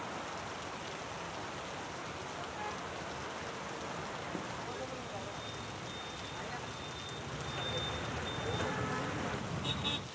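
Rain falls across the city at night, a dense, even hiss that holds at a steady level throughout, with faint tones and traffic-like noise mixed in toward the end.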